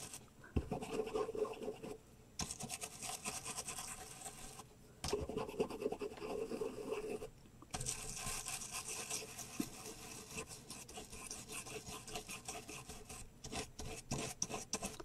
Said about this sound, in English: just going to brush in some black soot here